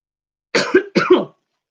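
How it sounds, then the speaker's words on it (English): Two quick coughs, close and fairly loud, each a short harsh burst, with silence before and after. "Oh, I'm coughing."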